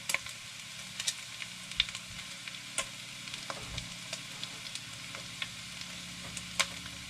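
Cumin sizzles in a hot pan for pilau rice, a steady soft frying crackle scattered with small sharp pops throughout, quiet and close with no talking.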